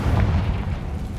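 A Confringo spell in Hogwarts Legacy bursts as a single heavy, booming explosion, loud and close, with a deep low rumble that fades quickly over about a second.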